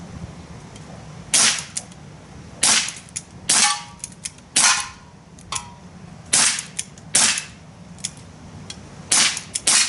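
Umarex Beretta APX blowback BB pistol fired at sun-dried marshmallow peeps, giving about nine sharp cracking shots spaced one to two seconds apart, each loud and close, with faint ambient noise between them and no talking.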